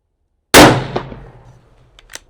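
A single loud, sharp shot from a Bergara B-14 Ridge rifle in 7mm-08 loaded with Varget powder, a sudden blast decaying into a rolling echo, followed by faint clicks about a second and a half later.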